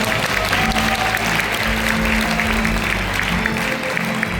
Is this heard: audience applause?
yes